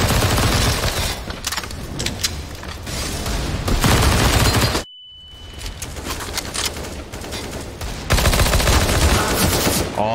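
Loud, rapid gunfire from the first-person shooter CS:GO in a competitive match, dense bursts of shots throughout with a brief near-silent gap midway, heavy and close.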